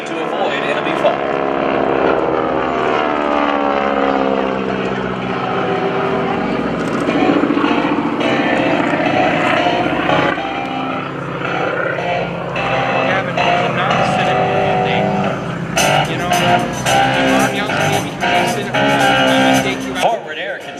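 Propeller planes of the GEICO Skytypers team drone loudly overhead during maneuvers at a Rhode Island Air National Guard airshow, the engine tone rising and falling steadily, with an announcer's voice over the roar.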